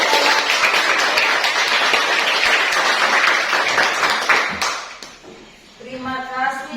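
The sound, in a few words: audience clapping hands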